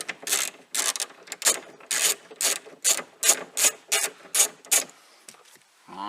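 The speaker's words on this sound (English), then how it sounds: "I think it's a T40 and then a 10 mil socket that you'll need." A ratchet with a 10 mm socket clicks in a dozen loud, rhythmic bursts while undoing nuts on a Range Rover Sport tailgate, close up and without talk.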